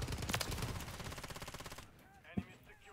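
Rapid automatic STG-44 rifle fire in Modern Warfare 3, a dense burst of closely spaced shots that stops abruptly, followed by a single sharp impact.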